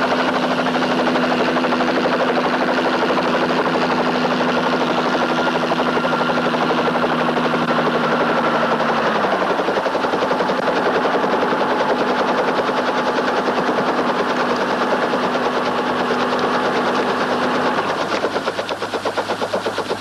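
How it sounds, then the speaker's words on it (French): A loud, steady mechanical thrum of a helicopter with a rapid rotor chop fills the whole stretch, staying close and constant throughout. "Notre hélicoptère approche."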